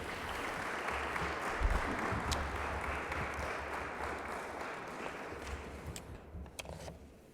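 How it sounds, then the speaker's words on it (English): A dense, steady wash of audience applause for Senator Warnock at an environmental justice honors reception, holding at an even level for several seconds before thinning slightly at the end. "we want to just give it up in a round of applause for Senator"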